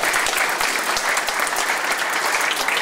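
Loud, sustained applause from a large audience at a startup pitch event, dense clapping filling the whole stretch without a break.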